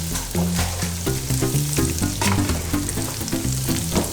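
Dry chilies frying in hot coconut oil, a dense steady sizzle with crackling pops throughout, close and loud, over a low musical tune in the background.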